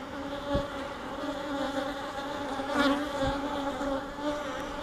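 Honeybees fan their wings inside a beehive during an inspection, a loud steady buzzing drone close by with a few brief louder passes, no talk.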